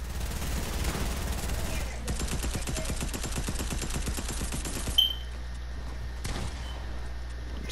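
Fortnite gunfire plays as a fast run of automatic shots in the middle stretch, fairly close and steady, followed by a sharp single report and quieter game ambience.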